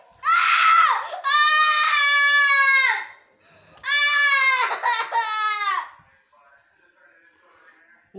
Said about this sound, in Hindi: और ये बच्चा रो रहा है।